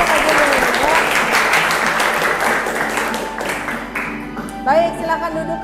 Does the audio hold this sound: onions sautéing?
no